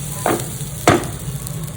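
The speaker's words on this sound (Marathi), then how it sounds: "दलिया हा भाजून घेतो परतून घ्यायचा पाच मिनिट" Broken wheat (dalia) being dry-roasted and stirred in a pan, two distinct scraping strokes close by over a faint, steady background hiss.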